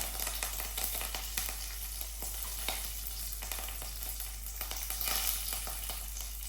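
Mustard seeds spluttering in hot oil with dried red chillies and curry leaves, a steady close sizzle broken by many sharp popping crackles throughout, with no talking.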